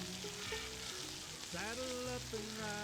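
Bacon sizzles and crackles on a Blackstone griddle as it is moved and flipped during a pancake breakfast cook. The frying hiss is a soft, steady bed beneath a melodic tonal line.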